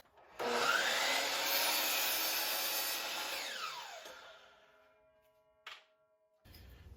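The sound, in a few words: wooden dowels being run through a cutting setup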